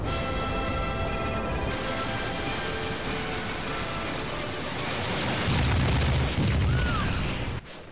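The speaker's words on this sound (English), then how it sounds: "Oh, now she freaks out at the explosion." An explosion in the video game Super Smash Bros. Brawl, Subspace Emissary, is a sustained roaring rumble with crashing debris, swelling into a heavier low boom near the end before cutting off.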